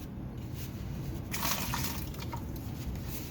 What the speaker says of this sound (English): Now we're going to go ahead and pour our vinegar into this bucket.